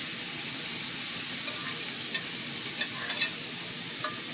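Meat drippings sizzling in a frying pan, a steady crackling hiss with a few sharp pops and stirring scrapes, close and continuous with no talk.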